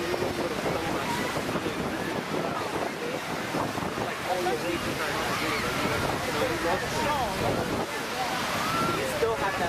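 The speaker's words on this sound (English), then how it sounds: "The wind is blowing." Strong wind buffets the microphone at a beach, a constant rough roar with surf-like wash underneath and faint voices mixed in.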